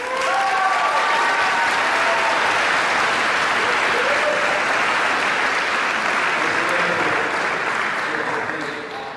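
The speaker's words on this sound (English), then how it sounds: "Let's give Hannah a round of applause" A large symphony concert audience claps loudly and steadily for several seconds, dense and sustained applause that fades slightly at the end, with a voice briefly heard underneath.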